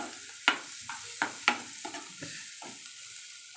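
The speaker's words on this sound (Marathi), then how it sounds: "कांदा मऊसर होईपर्यंत आपण परतून घ्यायचा आहे" Onions sizzle softly in a pan until soft while a spoon stirs and scrapes in a few sharp strokes for pav bhaji, quiet and close, with no talking.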